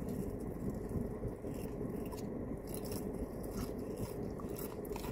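Crunchy fried chicken is bitten and chewed up close, giving a steady run of crisp crackling and crunching that carries through the whole stretch with no talking.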